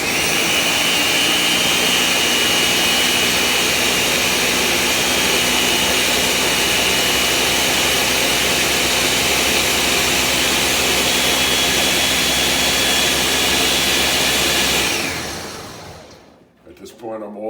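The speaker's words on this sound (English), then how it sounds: "And now it's going to get a little noisy because I'm going to blend it." A blender puréeing canned peeled tomatoes gives a loud, steady whirring roar that runs unbroken for about fifteen seconds and then stops abruptly.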